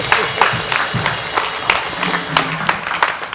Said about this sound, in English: Give me another hand clap.